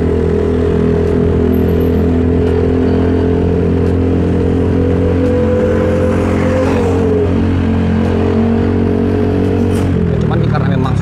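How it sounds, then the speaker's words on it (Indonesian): Yamaha Stylo 160 scooter fitted with an aftermarket exhaust, a loud steady engine drone with a rising tone partway through and a shift near the end, close to the microphone. "Ya, cuman ini karena memang suara knalpotnya aja sih yang gede ya."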